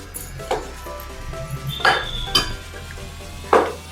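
Honey and diamond sugar candy are mixed for panchamirtham in a bowl, with a few sharp clinks and scrapes of a spoon against the dish over a quiet, faint background.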